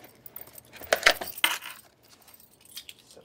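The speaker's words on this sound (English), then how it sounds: "Set my keys to the side here." A bunch of keys jangles and clinks as it is set down on a table during a PC build, a few bright metallic bursts close by, then quieter faint rattles afterward, with no speech.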